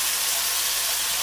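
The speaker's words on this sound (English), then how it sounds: "All you say is fry, and then you just fry the beans." Beans frying in a pan give off a steady, loud hiss and sizzle throughout, with no talking over it.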